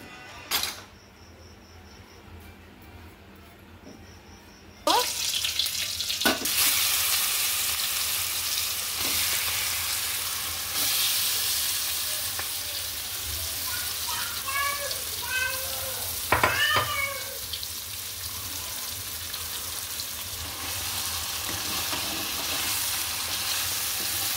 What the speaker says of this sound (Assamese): মই এতিয়া বৰ্তমান এই মাংসখিনি মই অলপমান ভুনি কৰি ল'ব লাগিব